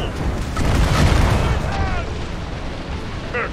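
Ship cannons firing during a naval boss fight in Assassin's Creed Rogue, heavy rumbling booms rolling together over about a second and then fading, with game voices shouting over the blasts.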